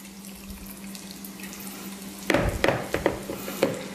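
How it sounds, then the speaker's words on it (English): Dressing poured over shredded vegetables for coleslaw, a steady soft wet hiss followed by a few sharper splattering, sloshing bursts close by. "And now we'll just pour this over our shredded vegetables."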